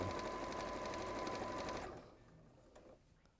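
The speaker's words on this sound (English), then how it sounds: "Since I've been on Sewing Street, I've got so good at speed sewing." A sewing machine stitches fast at speed-sewing pace, a close, steady rapid whirring hum for nearly two seconds that stops abruptly, followed by quiet room sound and a few faint clicks.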